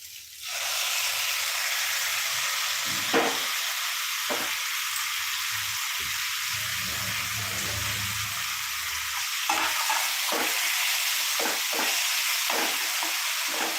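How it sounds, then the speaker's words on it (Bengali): Eggplant for baingan chokha goes into a hot pan and fries with a loud, steady, hissing sizzle, followed later by intermittent scraping strokes as the pieces are stirred. "এবার আমি বেগুনটাকে দিয়ে দিচ্ছি"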